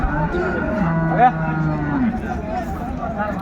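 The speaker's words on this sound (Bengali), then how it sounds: "গাভী বাছুর" A dairy cow with a calf moos loudly and close, one drawn-out call over the steady hubbub of a busy rural cattle market at Raniganj, Dinajpur, with people talking nearby.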